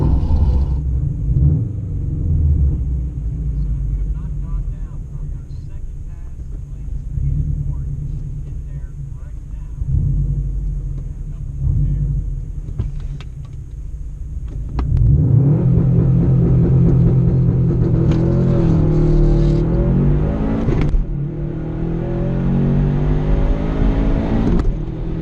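Subaru WRX and another car at a gambler's drag race, with a steady engine rumble that swells into a loud, close roar of acceleration around the middle and stays strong to the end, some faint voices underneath.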